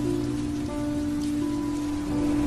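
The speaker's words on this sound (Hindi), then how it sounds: "ट्रक थोड़ा और आगे बढ़ा ही था कि बारिश तेज हो गई।" Heavy rain in a Hindi horror cartoon, a dense, steady hiss of downpour under a low constant hum, continuous throughout and without breaks.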